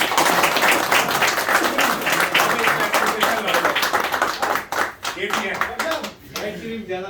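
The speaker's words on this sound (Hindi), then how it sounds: "तो उसके लिए बहुत सारी तालियां होना चाहिए।" Loud, dense clapping from a gathered audience, close and energetic at first, then thinning into scattered individual claps toward the end while voices talk over it.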